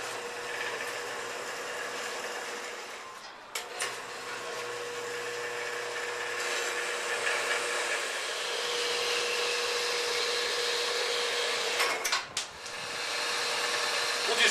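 A bench grinder rounds off the edges of a steel nut, a steady loud grinding whine running for seconds, briefly dipping twice as the piece is repositioned, with no talk.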